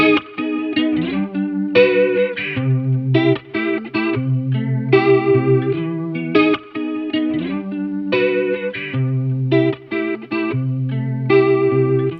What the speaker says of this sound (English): Here's another comparison, but on the vibrato side, between the original and the WA-C1.